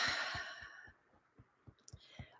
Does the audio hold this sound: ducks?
no